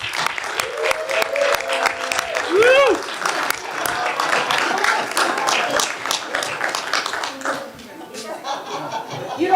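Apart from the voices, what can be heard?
audience applause and cheering for two boys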